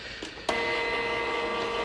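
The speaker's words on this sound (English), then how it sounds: "So this is the zebra printer." A Zebra printer printing sticky labels starts with a couple of clicks, then a steady mechanical whir runs continuously nearby.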